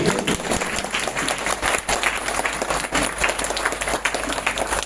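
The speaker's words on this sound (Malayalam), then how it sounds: "ഒരു വലിയ ക്ലാപ്പ്, വലിയൊരു കൈയടി" School students stand and applaud to honour a visiting Mar Thoma church bishop, a dense, sustained burst of clapping from a large crowd that carries on steadily for several seconds.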